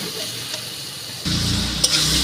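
Tomatoes hit hot oil with ground chili, turmeric and cumin for chicken curry, a quiet hiss suddenly swelling into a loud, close, steady sizzle.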